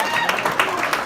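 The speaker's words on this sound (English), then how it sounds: "I don't know what you're clapping about." Wedding guests clapping at Michael and Joyce's reception, a moderately loud, even patter of many hands.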